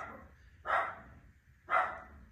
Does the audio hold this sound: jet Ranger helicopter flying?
no